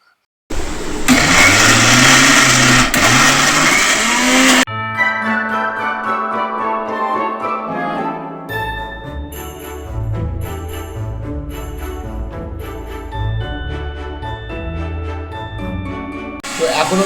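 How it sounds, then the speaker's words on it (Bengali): Mixer grinder whirring loudly for about four seconds while making homemade peanut butter, then cutting off to a quiet room with steady tonal background hum. "আরেকবার চালাবো মিক্সচারটা"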